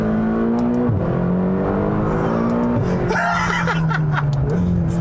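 A 2020 McLaren GT supercar engine revs hard while accelerating through the gears, heard from inside as a loud rising drone with gear-change dips, plus brief faint chuckles.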